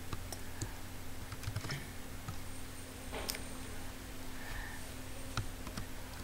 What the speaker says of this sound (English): I'll type this.